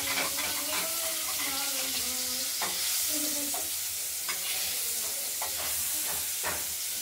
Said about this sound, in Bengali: মাছ দুটোকে প্রথমে ভেজে নিচ্ছি